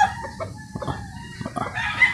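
Gamecock roosters being readied for cockfighting cluck and call in short, close bursts, with a brief crowing-like note among the scattered fowl sounds.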